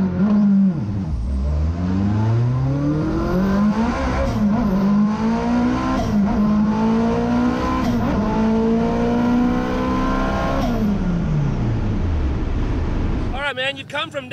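A Toyota MR2 drag car with a Honda K-series engine roars past at full throttle at a drag racing event, its engine pitch climbing steadily through gears, loud and continuous, fading sharply at the end.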